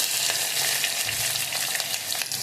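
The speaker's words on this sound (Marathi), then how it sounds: "2 मिनिटं लालसर कलर येईपर्यंत परतून घ्यायचे आपल्याला" Sliced onion, mustard seeds, garlic and whole spices sautéing in hot oil for dal khichdi, a dense close sizzle with small crackles and the light scrape of stirring, no voices.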